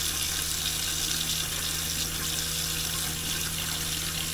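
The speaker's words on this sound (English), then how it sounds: "And I'm going to turn on the hot water." Hot water runs steadily from a tap in a converted Ford Transit camper van fed by a Kuuma hydronic heater, a constant close hiss with a low hum underneath and no talking.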